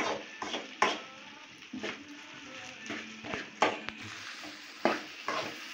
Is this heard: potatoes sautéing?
yes